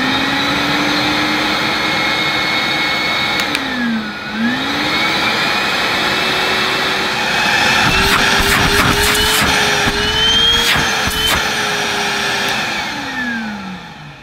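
Numatic NBV240 cordless vacuum cleaner running continuously, a steady whirring drone that dips briefly as the speed changes, then settles into a louder, higher-pitched whine at high speed before winding down at the end, no talking.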